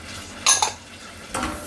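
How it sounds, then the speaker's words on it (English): A butter and flour roux is stirred in a pan for a white sauce: two short scraping strokes of a utensil against the pan, close and fairly loud, separated by a quiet pause, with no voices. "this is what's called a roux, the mixture of the flour and the butter"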